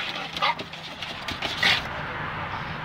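A terrified rescue dog lets out two short, high yelping whimpers over a constant background hum, fairly close and otherwise quiet.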